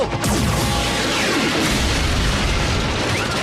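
Cartoon battle sounds from an animated Transformers series: a loud, continuous wash of explosions and booming gunfire that rumbles steadily for a few seconds with no pauses.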